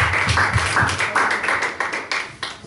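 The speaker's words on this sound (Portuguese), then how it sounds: "Vamos lá, dá as palmas, olha lá" A church congregation at a thanksgiving service claps along in a loose rhythmic beat, with distinct slaps repeating about every quarter second, fairly close and moderately loud with no talk over it.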